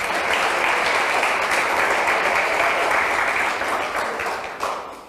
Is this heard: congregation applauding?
yes